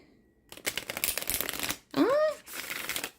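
A thick new tarot deck being riffled in several bursts of crisp card flutter, with a brief bent-card whirr in the middle and short pauses between shuffles, close to the ear.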